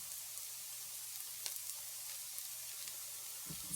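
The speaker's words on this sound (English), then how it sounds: "You probably don't have to like constantly stir the roux, but I'm always afraid of it burning." Roux of flour and fat cooking in a nonstick saucepan, giving a quiet, steady sizzle with faint scraping from a silicone spatula or whisk, close and alone with no talk.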